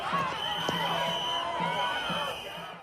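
Protesters in Minneapolis shout and cheer in a loud, dense crowd roar, with whoops and raised voices rising over the noise before it fades slightly at the end.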